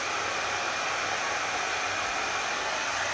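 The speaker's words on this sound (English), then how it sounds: "I'll set it, the hair dryer down right there." A hair dryer powered by a 3000W pure sine wave inverter runs steadily at close range, a constant loud broadband whoosh with no pauses.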